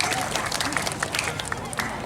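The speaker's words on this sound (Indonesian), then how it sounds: "sangat luar biasa tepuk tangan itu" An outdoor crowd at a Balinese bondres comedy show for the Tabanan town anniversary in Kediri claps in a busy, crackling wash, with crowd noise and chatter mixed in.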